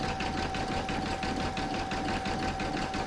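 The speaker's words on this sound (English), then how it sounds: "Next is round number 5, and that's going to do the satin stitches on the spines each side." An embroidery sewing machine stitching satin stitches on an in-the-hoop hedgehog applique, a fast steady mechanical chatter with an even rhythmic pulse and a constant motor whine, close and alone.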